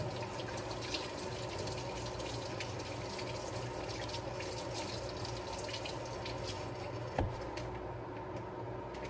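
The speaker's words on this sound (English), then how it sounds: "Let me wash my hands." A water tap runs steadily into a sink as hands are washed, a constant close hiss of flowing water with one brief clunk partway through and no talking.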